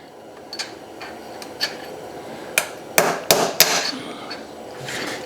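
Several sharp hammer strikes on a Honda XR250R motorcycle's steering stem bearings land irregularly, a few light taps early on, then a cluster of harder blows, with quiet pauses between them.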